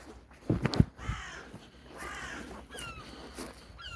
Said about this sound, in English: I don't know whether the seagulls are laughing at me or it's just what they do normally.